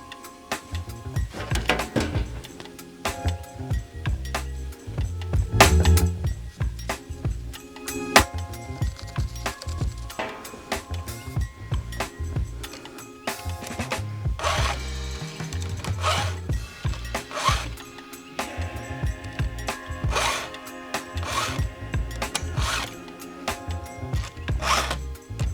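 A file is drawn across the cutting teeth of a Stihl chainsaw chain in a steady run of short, rasping metallic strokes, close and fairly quiet, with occasional louder knocks as the chain is handled.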